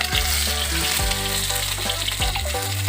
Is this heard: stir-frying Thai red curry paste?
yes